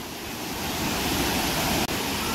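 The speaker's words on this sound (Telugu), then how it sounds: "వాటర్ ఫాల్స్ దగ్గరికి అయితే వచ్చేసాం" A waterfall beside Penna Ahobilam temple roars nearby as a constant, loud broadband rush, unbroken apart from one brief dropout.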